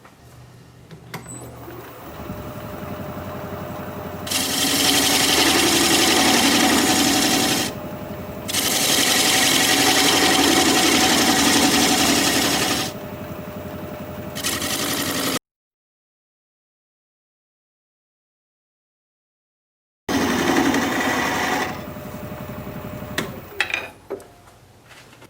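A wood lathe turns a spalted sycamore piece while a tool cuts the tenon at the bottom. Two long, loud stretches of steady broadband cutting hiss sit over the motor hum, with short pauses between them and a sudden dropout partway through.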